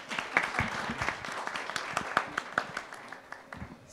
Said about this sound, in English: So I think a round of applause for that.